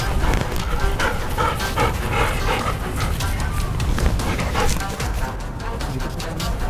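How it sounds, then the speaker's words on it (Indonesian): Pet dogs in a house, startled by a big monitor lizard, bark and yip excitedly in a dense, loud flurry, with people talking and shouting over the commotion. "Tadi anjing pada gonggong."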